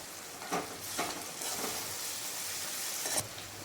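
Mustard seeds and onions sizzle and fry in a pan for masala khichdi, a steady close crackle with a few sharper pops and spatters scattered through.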